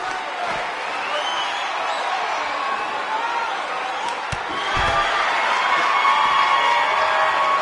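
A sold-out, record-crowd wrestling arena in WWE 2K19 fills with a continuous roar of cheering and shouting voices, steady throughout and swelling a little louder toward the end.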